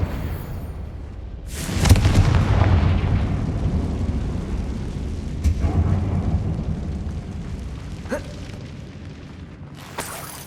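A Confringo fire-blast spell goes off inside an abandoned mine in the game Hogwarts Legacy: one loud booming explosion with a long rumbling tail, followed by a few smaller sharp bursts. No one speaks.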